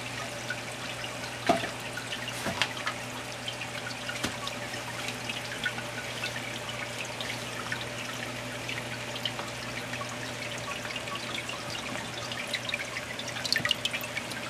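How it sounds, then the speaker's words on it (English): Sprayers inside a Clone King plant cloning machine shoot out water, giving a steady hiss and trickle with occasional drips and a constant low motor hum, close and fairly quiet. "there you see those little red things shoot out water"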